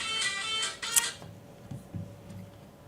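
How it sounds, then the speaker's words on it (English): An electronic tone from a phone going off, a bright harmonic burst lasting about a second, followed by a short high blip, then fading to quiet room noise with faint low murmurs. "That's so I'll know what phone's going off."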